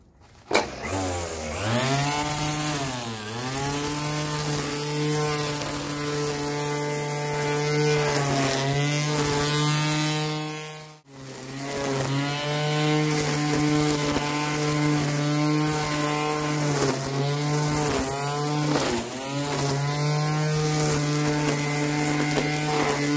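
A string trimmer (bordeadora) fitted with a new spool and fresh line runs steadily at close range, a loud continuous whining drone with a short dip in speed partway through before revving back up.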